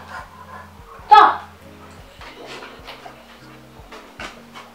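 Dogs pant and whimper close by, with a sharp loud yelp or bark early on and light household sounds throughout.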